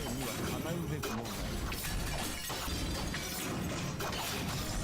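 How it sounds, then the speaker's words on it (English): Swords clash and crash in dense, loud metallic bursts during a Fate/Stay Night Unlimited Blade Works battle scene, with a voice talking underneath the continuous din. "The swords are pretty loud."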